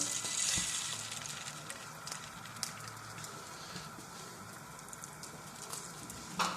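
A milk and egg omelette mixture spread in an oiled pan gives off a steady, soft sizzle and crackle, continuous and close with faint spatters, with no talking over it.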